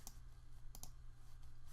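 A computer mouse clicking at a desk, a quick single click followed by a close double click, faint and near, over a steady low hum.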